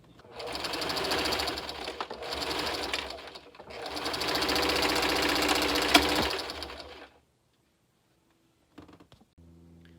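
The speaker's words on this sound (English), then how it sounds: "now I'm folding down about an inch and sewing" A sewing machine runs in two short bursts and then one longer sustained run, stitching down a folded fabric hem about an inch deep on a homemade cosplay dress, stopping with a few quiet handling clicks afterward.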